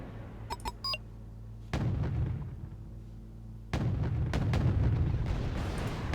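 A tank takes incoming fire in Wargame Red Dragon, with heavy booming impacts and rumbling explosions arriving in two loud waves, preceded by a few short interface beeps.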